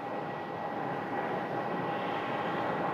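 A United Boeing 737 MAX 9 airliner departing Phoenix Sky Harbor for San Francisco gives a steady, broad engine roar at moderate distance, constant and unbroken.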